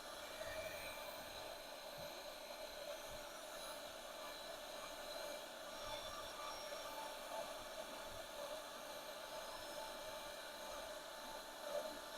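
An embossing heat gun blows steadily while drying ink stains on a craft tag, a constant airy whir with a motor hum running throughout, fairly quiet and alone.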